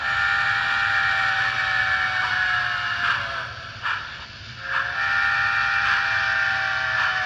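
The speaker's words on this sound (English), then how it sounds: "I'll blow the whistle." A model Union Pacific 9000 series 4-12-2 locomotive whistle sounds in a long sustained tone, broken by a few short dips, over a faint mechanical hum.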